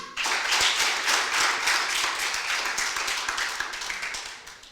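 A room full of people at a mentorship launch event claps together, a dense, loud burst of applause that holds steady for several seconds before tapering slightly.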